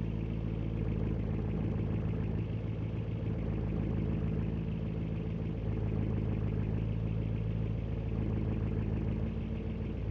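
Steady low video game car engine idle with a constant harmonic hum, rising slightly in rumble midway as the car shifts into reverse; no talking.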